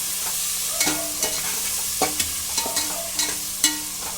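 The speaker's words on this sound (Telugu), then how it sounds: "చూసారా టమాటా వేసుకుని ఒకసారి కలుపుకుందాం" Tomatoes and broad beans (chikkudukaya) cook in a pan with a steady close sizzle, while a spoon scrapes and knocks against the metal in short, irregular strokes.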